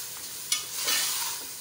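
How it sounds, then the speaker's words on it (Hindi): Chicken frying with onions and garlic in a pan, a steady soft sizzle with a brief stirring scrape partway through, close and alone. "ये देखिए अब मैं भून रही हूँ चिकन को"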